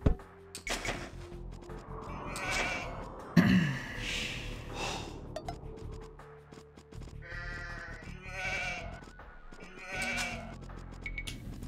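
Sheep in a real-time strategy video game let out several short bleats and gasp-like calls, spaced irregularly and fairly clear against quiet game sounds.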